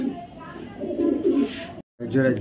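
Red checker racer pigeons coo in low, throaty bursts close by, a short gap of silence breaking the murmur, with a voice talking over them.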